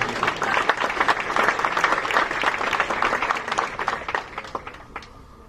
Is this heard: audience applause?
yes